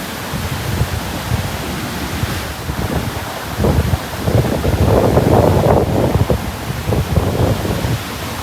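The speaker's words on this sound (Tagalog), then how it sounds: "napakalaki ng mga alon" Heavy surf from large waves during a super typhoon at Boracay roars and crashes continuously, mixed with gusting wind buffeting the microphone, loud and close with no talking.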